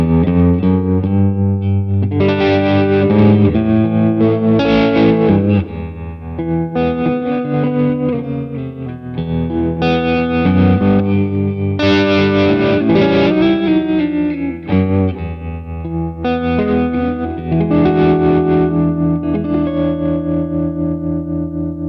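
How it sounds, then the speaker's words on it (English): Guitar played through an MXR Tremolo pedal on an old bias tremolo setting at medium speed and depth, chords throbbing in a steady pulsing swell, loud and continuous with no talking. "This next one is based off an old bias tremolo."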